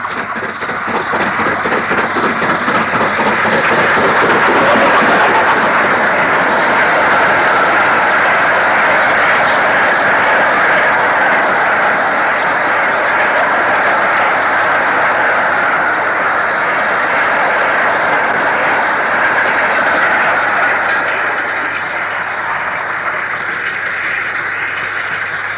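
LMS 8F steam locomotive 48191 hauls a train up the incline over the Manchester Ship Canal toward Stockport, making a loud, continuous, dense roar of working exhaust and rolling stock that holds steady for over twenty seconds, with no voices.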